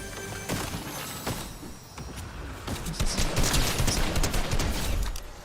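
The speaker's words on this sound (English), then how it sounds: "Somebody's shooting me." Gunfire in GTA Online: a busy, loud exchange of shots with scattered sharp cracks early on, building into a denser stretch of rapid fire in the second half.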